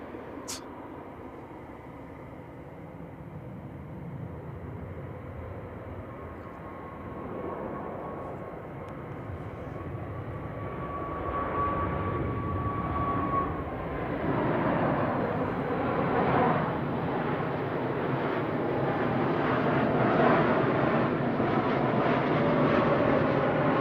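A TUI airliner arriving from Corfu at Manchester Airport rumbles in a broad jet roar that builds steadily from moderate to loud, with a thin whine riding over it, and no voices.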